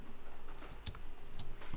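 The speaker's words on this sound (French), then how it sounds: "C'est contrôle tabulation sur le clavier." The Ctrl+Tab shortcut is pressed on a computer keyboard, giving two faint, crisp key clicks about half a second apart in a quiet room.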